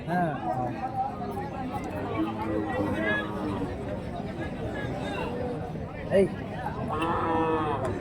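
Calves and cattle at a Friday livestock market in Kundarapalli, Krishnagiri district, with moos rising over a constant hubbub of nearby people talking and bargaining.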